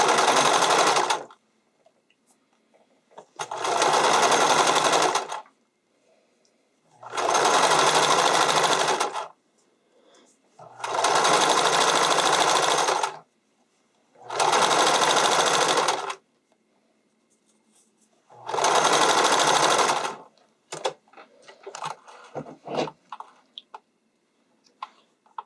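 A sewing machine stitches a spandex sleeve cuff in six separate bursts of steady whirring, each lasting a couple of seconds with short silent pauses between, followed by faint handling clicks and rustles.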